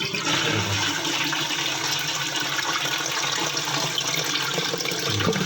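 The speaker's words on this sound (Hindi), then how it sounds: "अभी जैसे ही हम ये फ्लश खोलेंगे तो वापिस पानी चालू हो जाएगा।" A concealed toilet flush tank releases its water in a loud, steady rushing flush that runs unbroken and close throughout.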